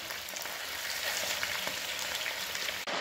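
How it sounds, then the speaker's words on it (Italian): Veal pieces for a spezzatino brown in a pan, a steady close sizzle and crackle of frying that runs evenly throughout and cuts off briefly near the end, with no talking. "Ogni tanto li giriamo e insomma li facciamo rosolare bene da tutti i lati."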